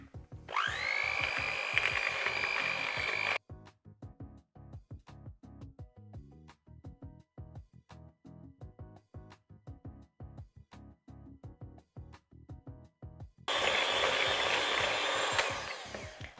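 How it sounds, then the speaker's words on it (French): An electric hand mixer beats canelé batter at low speed, giving two loud, steady motor whines at the start and end with a stretch of rhythmic, beat-like sound between them. "on va prendre notre batteur électrique et on va commencer à battre à vitesse 1, enfin à petite vitesse"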